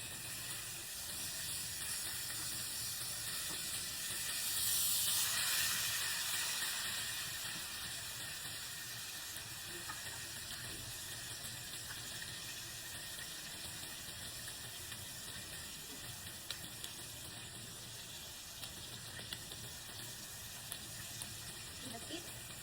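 Pork steak frying in a pan gives a continuous broadband sizzle and hiss, steady and close, swelling briefly early on and carrying on evenly throughout.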